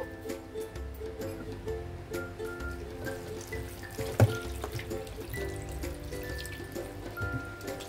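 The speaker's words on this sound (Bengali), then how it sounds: "এবার আমি জল অ্যাড করব" Water poured into a pot of chicken yakhni pilaf, a soft continuous splashing trickle with a brief sharper knock midway, fairly quiet and close.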